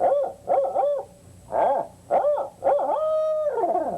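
A voice imitates an owl's hoot as a turkey-hunting call, giving a series of loud, close, wavering hoots with short pauses, ending in a longer drawn-out call.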